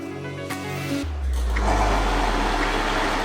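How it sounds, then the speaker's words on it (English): A blender grinding peanuts into paste starts with a click and then runs steadily, a loud, even low whirring drone that holds without pause to the end. "put it into the blender and turn it on."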